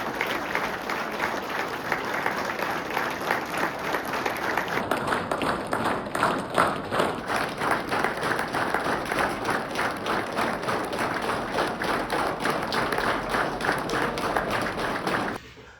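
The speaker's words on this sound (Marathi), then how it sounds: "पादुका गेट पर्यंत जाऊपर्यंत टाळी वाजवत ठेवा" A crowd of pilgrims claps steadily and continuously during a Sai Baba palkhi procession bound for Shirdi, a dense, sustained clatter of many hands that carries on throughout at an even level.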